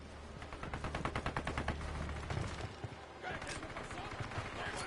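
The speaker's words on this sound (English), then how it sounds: "I'm opening fire." Rapid bursts of automatic gunfire in the tactical shooter Ghost Recon Wildlands, a dense run of close, loud shots that shifts into scattered single cracks amid combat noise, with talk over it.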